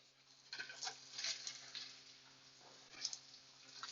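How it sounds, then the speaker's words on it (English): Salmon patties sizzling as they go into hot oil in a large pan, with faint crackling and spattering bursts rising and fading over a low steady background. "A good sizzling sound"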